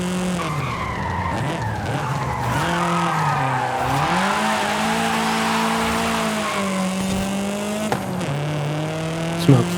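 Car in Forza Horizon 5 drifting through a touge hairpin, a loud steady engine drone with sustained squealing tires sliding continuously, close and alone, ending with a brief click.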